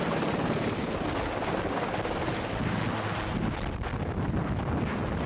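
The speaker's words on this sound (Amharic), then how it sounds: "እጅግ በጣም ኃይለኛው ሄሊኮፕተር ድምጽ ዘገባውን አናወጠው።" A helicopter roars loudly overhead during a live outdoor news report, its dense, steady rotor and wind noise swamping the microphone for the full stretch with no break.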